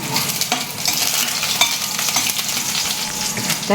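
Garlic sizzles and crackles in hot oil in a home kitchen pan while cooking a raw plantain stir-fry, a steady close frying hiss with occasional stirring scrapes.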